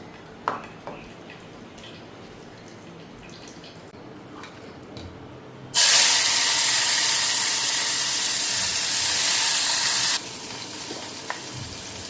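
Oil in a kadai over a gas flame bursts into a loud, bright hiss midway through, holding steady for several seconds before dropping back to quieter kitchen clinks and faint background sounds.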